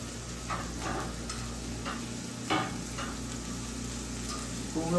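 Beef sears in browned hazelnut butter, a faint, steady hiss of frying with a few soft clinks and scrapes, and no voices.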